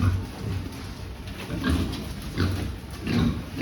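Pigs on a farm grunt and snuffle repeatedly at close range while being weighed, in a rough, continuous chorus.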